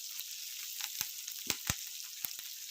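Chopped onion and garlic fry in a pan for rasam, giving a faint, steady sizzle with a few sharp crackles and spatter pops, close by and without talking.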